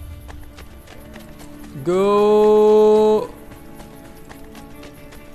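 Horse hooves gallop in Assassin's Creed Brotherhood as a steady, light run of regular thuds, joined midway by a loud, sustained tonal sound lasting about a second and a half, with a brief shout from a voice.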